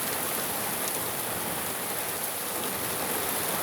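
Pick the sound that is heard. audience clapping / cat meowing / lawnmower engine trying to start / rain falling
rain falling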